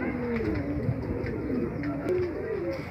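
Several chura-type domestic pigeons coo in low, rolling phrases close by, with someone speaking briefly over the continuous murmur of the birds.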